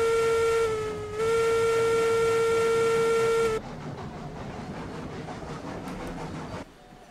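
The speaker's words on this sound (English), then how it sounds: "as we're backing up, whistle warning the people" A locomotive in RailRoads Online sounds a long, loud steam whistle while backing up, dipping briefly near the start, then cutting off to leave steady rolling rail noise that ends abruptly.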